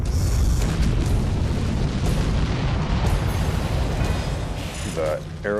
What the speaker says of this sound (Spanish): se producen explosiones en el aire